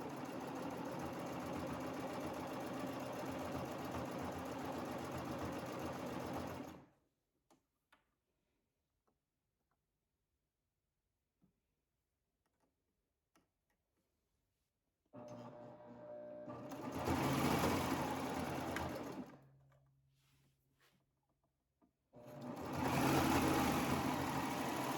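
A sewing machine stitches a snap placket band in close, loud, rapid bursts. It runs for about seven seconds, goes quiet with a few faint clicks, then runs twice more.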